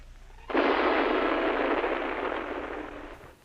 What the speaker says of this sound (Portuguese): Isso é uma explosão de uma bomba de hidrogênio